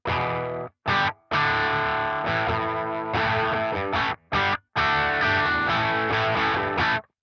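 An electric guitar plays through a Neural DSP Fortin Cali Suite hex drive pedal, giving heavily distorted, sustained chords broken by short rhythmic stops and quick chugs.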